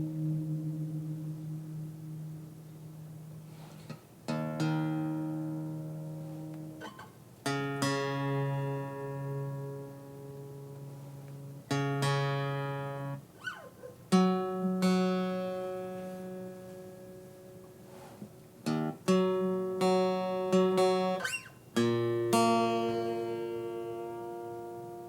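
Out-of-tune guitar strings ring through a series of strummed chords, each attack sustaining and decaying with audible wavering beats, separated by brief pauses, with nobody talking.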